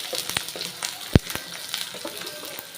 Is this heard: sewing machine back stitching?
no